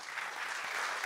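Audience applause for a speaker at the West Web Festival, a steady dense clapping wash that holds even and fairly loud from start to finish with no voices over it.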